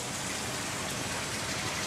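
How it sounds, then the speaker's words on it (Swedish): Steady heavy rain pours down during the rainy season in Bali, a dense, continuous hiss and patter close by with no voices over it. "Och nu regnar det igen."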